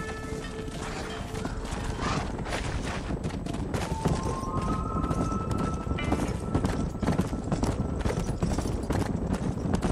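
Horse hooves clip-clop in a fast, dense rhythm in Red Dead Redemption, mixed with creaking mechanical sounds, brief tones and a faint whinny, loud and close.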